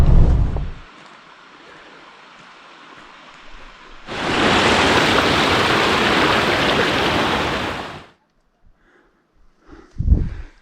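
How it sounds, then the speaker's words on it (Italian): A vehicle crosses a river bed on a rough mountain road toward Val Montanaia, a loud steady rush of water and gravel noise rising abruptly and cutting off after about four seconds, with brief thumps before and after. "Adesso stiamo attraversando il letto del fiume."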